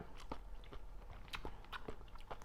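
Crunchy jellyfish, from Thailand and Satun, is bitten and chewed close up, giving a soft series of wet, crisp crunches in an uneven rhythm over a low background hum.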